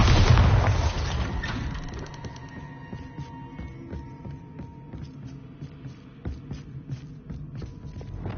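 A Bombarda blasting spell goes off in Hogwarts Legacy, opening with a loud booming explosion that decays into a long rumbling, crackling tail with scattered smaller impacts and debris sounds.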